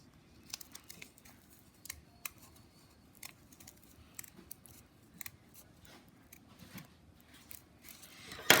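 Scissors snipping through folded paper while making kirigami snowflakes, a series of small crisp close-up cuts at an uneven pace, with a louder rustle of paper at the end.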